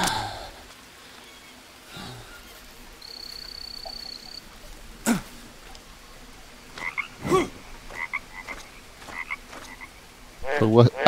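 Frogs croak in the Green Hell rainforest survival game, several separate croaking bursts spaced irregularly over a quiet jungle ambience, louder toward the end.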